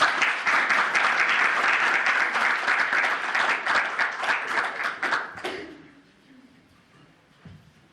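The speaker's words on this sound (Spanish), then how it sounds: "démosle un aplauso por favor." Audience applauding a lecturer at a talk on divine and human power, a dense, lively burst of clapping lasting over five seconds, then stopping abruptly and leaving a quiet room with a faint voice.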